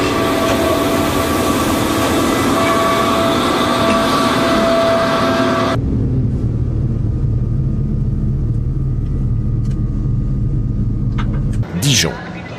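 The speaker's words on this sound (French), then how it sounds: "l'Express 5053 vient lentement se ranger le long du deuxième quai" An Express 5053 passenger train rolls slowly alongside the second platform at Dijon station, a steady loud rumble and hum that drops to a deep low drone midway, with a brief metallic screech near the end.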